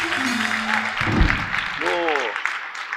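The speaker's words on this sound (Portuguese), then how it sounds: "salva de palmas para ele" A talk show studio audience breaks into applause as a voice speaks over it, the clapping rising in the middle of a short stretch of conversation.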